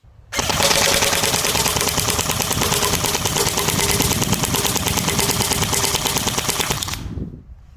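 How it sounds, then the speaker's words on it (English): A Barra 400E Gen 2 electric all-metal .177 BB machine gun fires full-auto in one loud, close, continuous rapid burst of about seven seconds, then stops abruptly. "Today we're checking out the brand new Generation 2 Barra 400E fully automatic 177 caliber BB gun."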